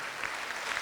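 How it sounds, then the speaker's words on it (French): A municipal children's council gathering applauds a man named Hervé, a brief, dense burst of clapping from a crowd, steady throughout. "Vous pouvez l'applaudir en avance,"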